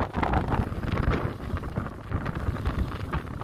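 Gusty storm wind batters the microphone in uneven, rumbling bursts near sheltering cows, with a steady rushing wash suggesting rain driven along by the storm.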